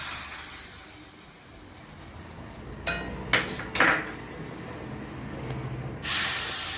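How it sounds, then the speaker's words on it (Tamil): Hot oil tempering of mustard seeds, urad dal and asafoetida poured over cooked spinach, giving a few sharp sizzling bursts and a final loud hiss against a quiet kitchen background. "கடுகு, உளுத்தம்பருப்பு, பெருங்காயம் தாளிச்சு கொட்டியாச்சு"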